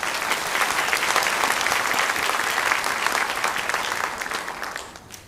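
A crowd applauds student leaders at an MLK Day of Service gathering in a high school, the steady clapping holding loud for several seconds before tapering off at the end, with no talk over it.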